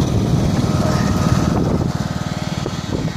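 A lawn tractor engine tows a motorcycle, a steady rattling small-engine drone with a fast pulsing beat, close and loud, slightly uneven toward the end.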